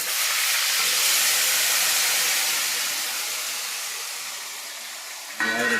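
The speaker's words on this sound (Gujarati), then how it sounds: "ગુંદા વઘારે છે" Gunda (lasoda berries) hit hot oil tempered with cumin and sizzle in a loud, steady hiss that slowly tapers off before a sudden clatter at the very end.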